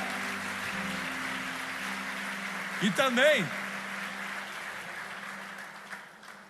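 A church congregation applauds with a steady, even wash of clapping that runs the whole way through, while a voice cuts in briefly near the middle.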